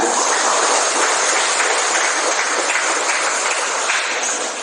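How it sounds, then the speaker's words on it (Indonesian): A large audience at a pesantren alumni Halal Bihalal gathering breaks into loud, dense, continuous applause, a steady wash of many hands clapping that holds at full strength from start to end. "Baik Bapak Ibu, mari kita beri tepuk tangan yang meriah."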